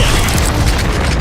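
A Confringo blasting spell in Hogwarts Legacy bursts with a loud, dense, sustained boom that fills the whole short moment, close and heavy with no pause.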